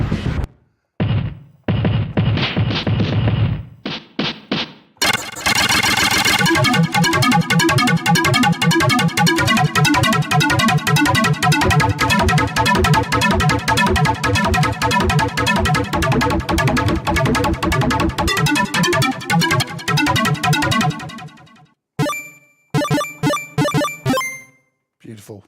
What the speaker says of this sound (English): somebody's already gone ahead and programmed this for you to get a helicopter sound going